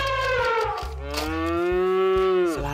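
A cow moos loudly and close, one long drawn-out call rising and falling over nearly three seconds, with a light clatter underneath and no talking.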